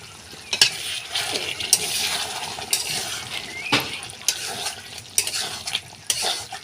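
Pangas fish curry being sautéed in a pan: a spatula stirs and scrapes repeatedly against the pan over a continuous close sizzle, with no talking.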